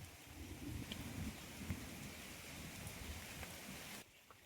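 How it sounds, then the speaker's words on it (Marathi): Unseasonal rain falling in the Konkan countryside, a soft, continuous patter of drops with a low rumbling undertone, faint and distant, thinning out near the end. "थोडा वेळ पाऊस पडला म्हणजे पडतोच आहे"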